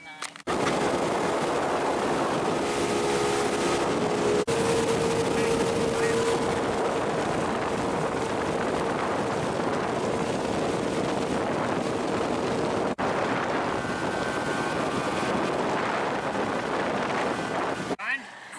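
A motorboat accelerating hard to get up on plane during a channel catfish trip, giving a loud, sustained engine roar with constant wind buffeting on the microphone and people talking over it.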